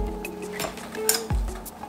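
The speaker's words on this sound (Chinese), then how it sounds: "然后呢拿起筷子稍微把它搅拌一下。" Chopsticks stirring instant noodles in a pot of boiling water, giving soft clinks and knocks against the pot over a bubbling background, close and moderately loud with no speech.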